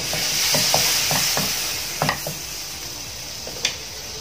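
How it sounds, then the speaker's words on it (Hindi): Butter sizzles steadily in a hot frying pan on a low gas flame in a home kitchen, a soft continuous fry broken by light clicks and taps of a spoon against the pan. "फ्राई पैन गर्म हो चुका है, तो अभी इसमें मैं थोड़ा गैस को धीमा कर देती हूँ। हम 1 चम्मच जैसे बटर ले लिया है मैंने,"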